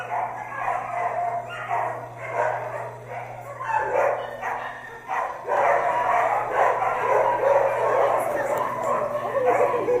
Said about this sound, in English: Entering the Kayenta Animal Rescue Shelter, desperate barks get louder